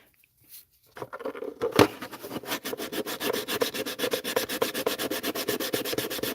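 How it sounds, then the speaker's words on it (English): Filled super glue on a ramp truck bed being sanded by hand, steady rhythmic rubbing strokes that start after a brief knock and continue close and fairly loud to the end. "gonna have to do some sanding on that real quick."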